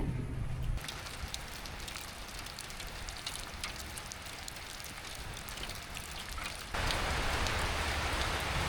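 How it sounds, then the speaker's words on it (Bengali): Steady rain pours down outdoors, a dense hiss of drops on surfaces that grows heavier and louder near the end, with no voices. "অবশেষে কিন্তু বৃষ্টি নেমেই গেল"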